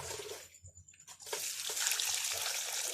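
Water pours onto a potted philodendron tricolor, with a few faint drips at first, then a steady hiss of flowing water, fairly close.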